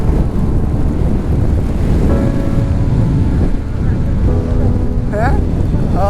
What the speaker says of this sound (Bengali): প্রচুর বৃষ্টি হইতেছে, প্রচুর।